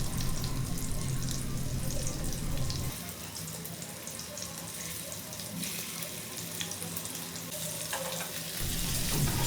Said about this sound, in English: 2 tablespoons of oil and butter, so that we can brown the meatballs. Now add the meatballs.